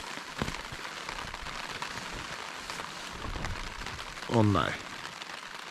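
Rain patters steadily on a campsite during a canoe expedition across Sweden, a soft continuous hiss with a brief spoken exclamation near the end.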